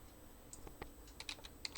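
Faint, close keystrokes on a computer keyboard come as a brief, uneven run of light clicks, with no voices.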